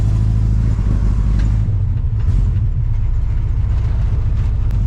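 A big-block 454 V8 in a Chevy C10 pickup with a dirty carburetor idles rough and loud up close, its uneven low rumble and clatter continuing steadily throughout.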